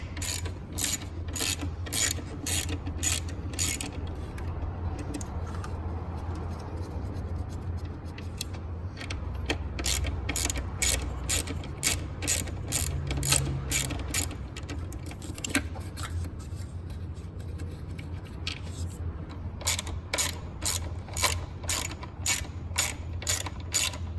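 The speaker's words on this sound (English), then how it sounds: "we'll loosen these 4 bolts and we'll take it off and put our new part on." A ratchet loosening bolts on the intake manifold runner valve of a 2006–2010 Dodge Charger, with long runs of rapid, even clicking, a quiet pause in the middle, then more clicking, all close up.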